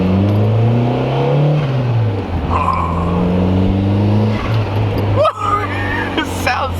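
A Mazdaspeed Protege5 fitted with a Unichip tuner accelerates on the road, its engine droning loud and close and climbing through the gears. Brief tire or whoosh noise comes near the end, and voices talk over it.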